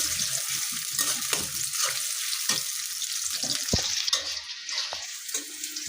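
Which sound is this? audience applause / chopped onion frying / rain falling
chopped onion frying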